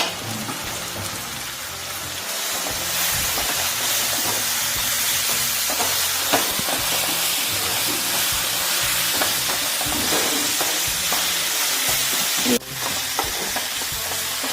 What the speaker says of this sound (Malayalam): ഉള്ളിയൊന്ന് ഇളക്കി കൊടുക്കട്ടോ